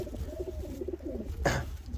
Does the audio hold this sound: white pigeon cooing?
yes